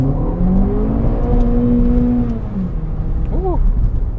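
A Ducati Monster 1100 Evo motorcycle accelerates with a loud engine note whose pitch rises and sweeps, then drops and climbs again in quick bursts, under heavy wind rumble.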